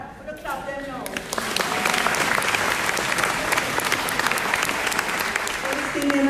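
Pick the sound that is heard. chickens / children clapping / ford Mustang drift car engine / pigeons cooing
children clapping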